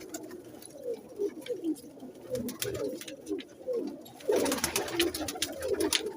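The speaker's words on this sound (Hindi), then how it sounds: "ये बच्चे उड़ाने वाले कबूतर हैं" Teddy pigeons, a mixed flock, coo repeatedly in a steady, rhythmic series of soft low calls, fairly close, with brief rustling and sharper sounds toward the end.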